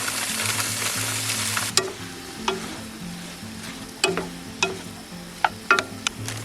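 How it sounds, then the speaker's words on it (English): Sausages fry in a pan with a constant crackling sizzle, punctuated by several sharp clinks and scrapes of a utensil, close by with no talking. "I personally like my sausage a little bit more on the crispy side, so we're just waiting for them to fry up a bit"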